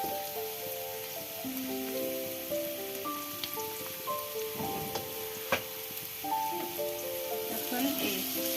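Potato, long-cut carrot and onion fry in a pan for vegetable noodles, a light crackling sizzle with occasional stirring clicks and scrapes, while a voice speaks quietly over part of it.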